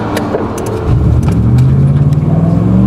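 A car's engine hums and rises as it pulls ahead in rush-hour traffic, heard from inside the cabin, with the low drone swelling into steady acceleration alongside small clicks and rattles.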